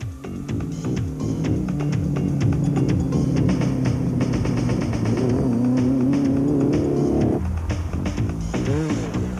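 An aging Land Cruiser races in the 1991 Baberspan 500 off-road endurance race, its engine roaring loudly and continuously at close range with shifting revs and a sudden change in pitch near the end.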